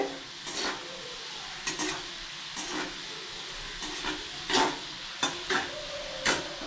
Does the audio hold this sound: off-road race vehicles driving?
no